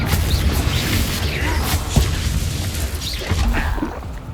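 Blasting curse explosions from a spell duel in Hogwarts Legacy, a dense stretch of booming bursts and crackling impacts over a rumbling low end, with a sharper blast near the middle and another flurry toward the end.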